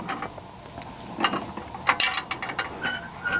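A hand ratchet backs out a 1/4 inch screw holding a corroded flame sensor in a home HVAC furnace, giving loud, quick clicking pawl ratchets in uneven bursts.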